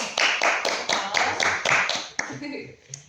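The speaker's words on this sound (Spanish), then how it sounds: "le damos un aplauso" Small studio audience claps briefly to welcome an invited guest, a few seconds of fairly close, rhythmic hand claps that stop abruptly and give way to quiet.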